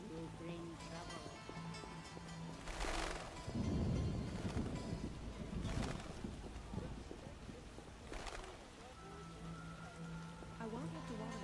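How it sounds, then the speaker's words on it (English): Steady heavy rain pours down with a dense hiss in The Witcher video game, swelling in a few louder bursts, while faint voices murmur underneath. "What a downpour!"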